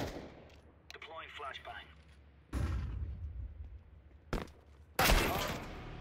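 A flashbang grenade goes off in Counter-Strike 2 with sharp, loud bursts, the strongest near the end. A player talks over quieter game noise before the bangs.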